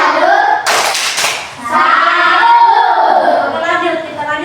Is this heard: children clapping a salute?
yes